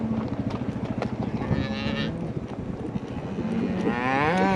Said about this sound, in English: they hear the neighbor cows bawling behind us